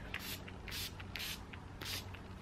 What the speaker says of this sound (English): I'll just spray it all over my face.